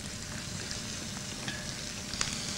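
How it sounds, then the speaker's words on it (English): Food sizzles and crackles steadily in a hot wok, with faint scraping stirs and small pops, no voices. "Well, at least it's sizzling."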